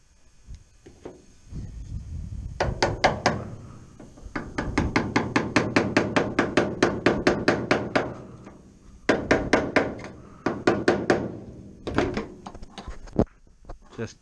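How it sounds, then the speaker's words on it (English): Cold chisel hammered against rusted sheet steel on a Classic Mini driver's door step, a rapid run of sharp metallic strikes in several bursts with short pauses, close and loud. "Just cold chisel that away"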